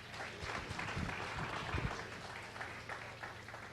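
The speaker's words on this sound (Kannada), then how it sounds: "ನಿಮಗೆ ಖುಷಿ ಆದರೆ ನೀವು ಒಲಿದಿರಿ ಅಂತ ಆದರೆ ಒಂದು ಕೈ ಚಪ್ಪಾಳೆ ಇರಲಿ" Audience applause at a televised bhajan singing competition, a steady patter of many hands clapping at moderate distance for several seconds, fairly even with small swells.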